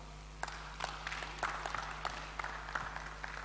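Scattered, sparse clapping from a small lecture audience, individual claps picking out irregularly over a constant low electrical hum, quiet and somewhat distant.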